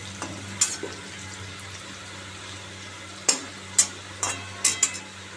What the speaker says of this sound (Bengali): দেখি আলু ভাজাটা বাহ হয়ে গেছে